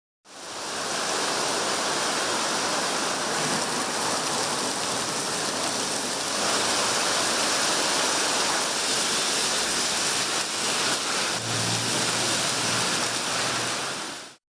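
Heavy rain pours down steadily in Chennai during a thunderstorm, a dense and loud continuous wash of water that fills the whole stretch without a break or any voices.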